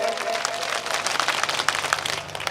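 Audience clapping at an Urdu poetry mushaira in Kishanganj, Bihar, a dense, steady burst of applause from a large crowd lasting a couple of seconds.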